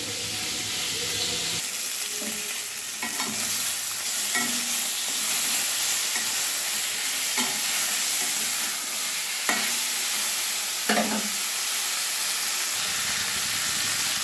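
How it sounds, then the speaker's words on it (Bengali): Lata (snakehead) fish frying in hot oil, giving a continuous close sizzling hiss with a few sharp stirring or turning clicks. "ল্যাটা মাছগুলো ভাজা হয়ে গেছে, এবার আমি নামিয়ে নেব।"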